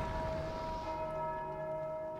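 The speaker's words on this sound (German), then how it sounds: "Ich weiß nicht, ob es klug war, gegen die Glocke zu hauen." A large bell struck in the Dark Souls 2 video game rings out with a sustained, bright metallic tone that hangs steadily and slowly fades across the whole stretch, with no talking over it.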